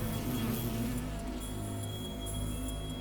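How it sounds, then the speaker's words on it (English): Steady, faint insect-like buzzing from a bee character in a video game, holding on without a break under a soft background hum, with no speech. "When we turned around, we saw a bee."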